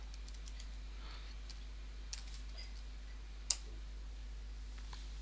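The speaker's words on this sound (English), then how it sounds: "if I type in the URL" Soft, sparse clicks from a computer keyboard as a URL is typed, faint over a low steady hum, with one sharper tap standing out midway.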